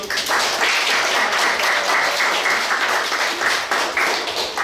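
Sustained applause from an audience at a special lecture on multicultural society, dense steady clapping from many hands, loud and continuous throughout with no speech over it.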